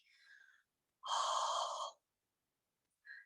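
A person demonstrates an ujjayi yoga breath exhaled through an open mouth: one close, breathy, hissing exhale of about a second, with softer breaths before and after in near silence.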